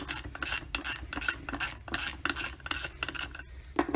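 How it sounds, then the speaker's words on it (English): Bolt being loosened with an Allen key on the primary clutch of a Polaris XCR 440 snowmobile, heard as a string of close, scratchy rasping strokes repeating in an uneven rhythm with no talk. "put the Allen key right there, and then just unloosen it, and it'll come right out"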